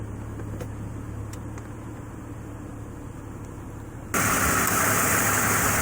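A BMW E46 engine idles steadily with a low, even hum while its transmission warms up, then a loud broad rushing noise abruptly covers it for the last couple of seconds.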